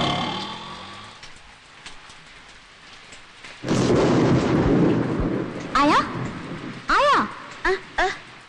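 Heavy monsoon downpour with thunder in Chennai: a quieter rainy stretch gives way to a sudden loud, dense roar of rain with deep rumbles, while voices speak over it near the end.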